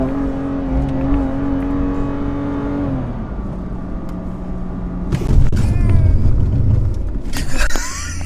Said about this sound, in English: Let's see if you can see the acceleration of this M3